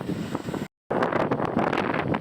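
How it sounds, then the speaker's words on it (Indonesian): Strong wind roars and buffets the microphone at a beach during a season of high waves, a dense, loud rush of noise broken by one brief dropout. "saat musim angin kencang yang berdampak ombak tinggi"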